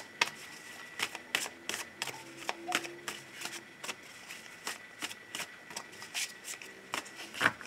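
A tarot deck is shuffled by hand: crisp, rapid riffling bursts and card flicks repeat in an irregular rhythm, close and fairly quiet, with no talk over them.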